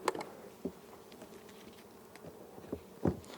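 Honey bees buzz around an open hive with a soft, steady drone, and several louder buzzes flick past close by.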